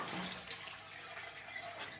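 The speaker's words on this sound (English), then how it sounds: "Lots of water spray." Water spraying and dripping off a lifted half-moon pond cover, a steady broadband splashing hiss that runs nearly the whole time, close by and moderately loud with no voices.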